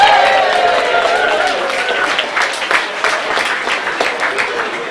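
An onboard audience cheers and applauds loudly for the master of the cruise ship Aurora, a dense wash of clapping and cheers that fades gradually.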